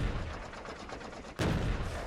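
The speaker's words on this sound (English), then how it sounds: "These cannons get things done." Cannon fire at enemies in the video game Factorio, rapid rumbling shots under dense battle noise, with one sharp, loud blast near the end.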